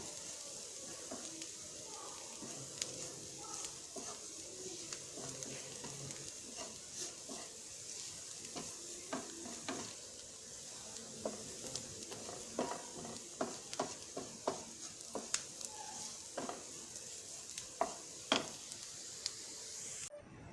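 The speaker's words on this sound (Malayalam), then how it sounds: "അതിൻ്റെ പച്ചമണം മാറുന്ന വരെ നമുക്ക് ഒന്ന് ഇളക്കി കൊടുക്കാം" Onions with turmeric stirred in a frying pan for Kerala-style chicken cutlet: a soft, steady sizzle with irregular scraping clicks from the spoon, growing more frequent toward the end.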